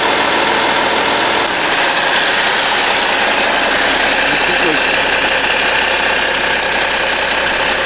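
A car engine runs at idle while the front wheels turn to check for imbalance after a pothole impact, giving a loud steady drone with some knocking and vibration throughout, with no clear speech.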